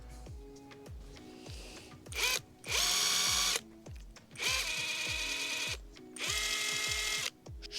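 A TEENO 320Nm brushless impact wrench whirs and hammers in several loud, close bursts of about a second each, with quieter mechanical ticking and handling between them.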